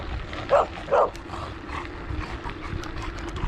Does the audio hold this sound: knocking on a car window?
no